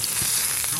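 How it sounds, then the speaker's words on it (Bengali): Eggs and brinjal fry together in a pan, a steady close sizzle filling the brief moment with no talk over it. "এই দেখুন, ডিমটাও ভাজা হচ্ছে, সাথে বেগুনটাও ভাজা হচ্ছে।"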